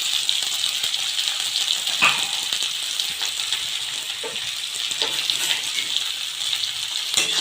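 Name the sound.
onions frying in a pan for drumstick tomato curry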